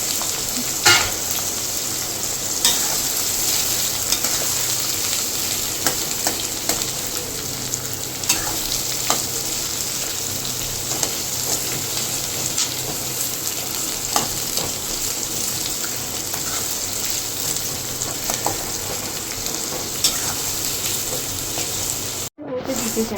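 Chopped onions sizzle and fry steadily in a pan for mutton curry, a loud continuous crackle with occasional stirring scrapes.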